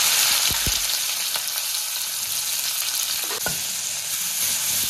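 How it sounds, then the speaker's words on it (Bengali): Dried red chili and sliced onion sizzle loudly in hot oil, a steady close crackle broken by a few sharp pops and the clink of stirring, with no speech. "তেলের মধ্যে দিয়ে দিচ্ছি শুকনো লঙ্কা, এবারে দিয়ে দিচ্ছি স্লাইস করে কেটে রাখা পেঁয়াজ"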